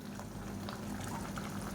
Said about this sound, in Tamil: இப்போ தக்காளி ஒரு நிமிஷமாக நல்லா கொதிச்சிருச்சு